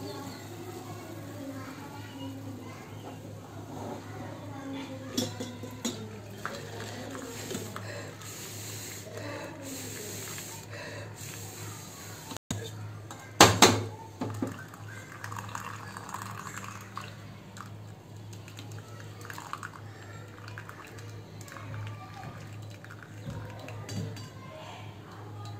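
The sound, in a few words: straining boiled herbal medicine, pots and utensils clinking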